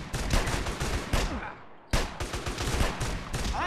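Rapid bursts of gunfire from GTA San Andreas crackle in dense volleys, with shotgun-like blasts and machine-gun fusillades overlapping. A brief lull falls midway before the loud shooting resumes, and a faint voice sits under the action.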